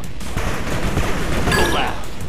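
Rapid bursts of gunfire and explosions from the real-time strategy video game 8-Bit Armies crackle through a short, dense battle.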